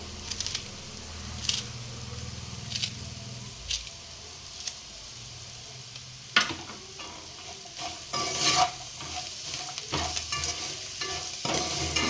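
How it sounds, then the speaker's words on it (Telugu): Prawns fry in a pan with coriander, a steady sizzle punctuated by sharp scrapes and clacks of a spoon stirring against the pan, with no talk. "ఒక 5 నిమిషాలు రొయ్యల్ని ఫ్రై చేసుకున్న తర్వాత చూపిస్తానండి."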